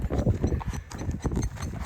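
A horse's hooves clop on the ground in a quick, uneven series of close thuds, moderately loud, with a splash of nearby water mixed in.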